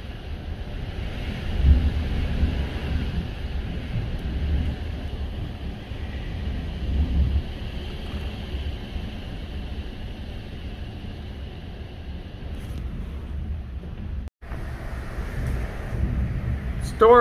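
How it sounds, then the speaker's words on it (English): Heavy rain pours down steadily during Hurricane Ian, a dense continuous hiss mixed with gusting wind that buffets the microphone, with a brief dropout near the end. "It's flat out pouring."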